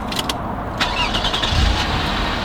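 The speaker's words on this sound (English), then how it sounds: "And the V6 comes and starts off straight away." A 2005 Lexus RX 300 V6 cranks and catches right away, a short starter whir then a low engine rumble settling into idle, close and fairly loud inside the cabin.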